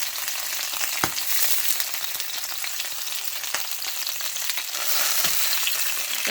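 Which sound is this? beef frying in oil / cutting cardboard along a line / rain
beef frying in oil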